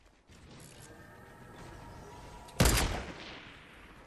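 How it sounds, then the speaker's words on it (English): A single sniper shot from a video game cracks sharply and loudly against faint background ambience, followed by a brief decaying echo. "Oh shit, I just got sniped at."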